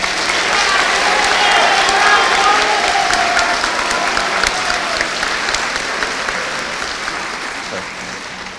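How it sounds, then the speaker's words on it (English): Audience applause for students at a high school underclassmen awards ceremony, a sustained, dense burst of clapping from a large crowd that gradually tapers off. "Please give these students a round of applause."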